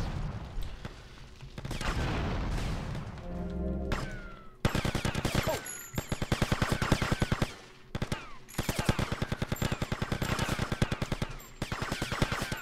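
Gunfire in the Grand Theft Auto: Vice City video game, with a rumbling stretch giving way to dense, rapid automatic bursts that crackle almost continuously and stay loud and close to the end.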